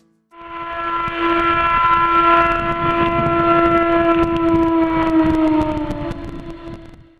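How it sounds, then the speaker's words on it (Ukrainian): The historic steam whistle of the Oleksandrivsky South-Russian plant of the Bryansk company in Katerynoslav sounds one loud, sustained harmonic blast for about seven seconds, its pitch sagging slightly before it cuts off. "Ми з вами знаходимося біля славетного гудка Олександрівського південно-російського заводу Брянського акціонерного товариства"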